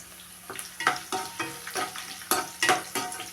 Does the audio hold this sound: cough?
no